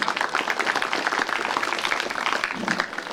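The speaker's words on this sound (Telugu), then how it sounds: "మనం చప్పట్లు కొట్టాల్సిన అవసరం ఉంది" A crowd applauds at a college sports ground during the closing of a CM Cup sports event, with dense, steady clapping that continues throughout and eases slightly toward the end.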